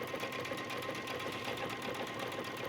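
Sewing machine running a stretch stitch along swimsuit binding: a continuous, even, rapid mechanical hum throughout, fairly quiet with no voices.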